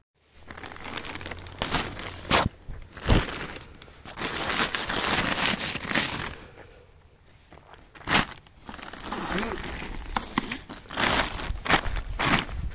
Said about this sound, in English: Let's go put plastic on those pots.